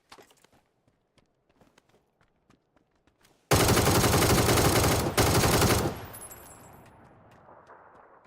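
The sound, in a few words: gunfire in a video game shooter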